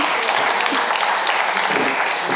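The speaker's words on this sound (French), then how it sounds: "On peut l'applaudir bien fort." An audience at a magazine launch event in Paris applauds warmly, a dense and steady burst of clapping from a crowd, loud and close throughout the brief moment.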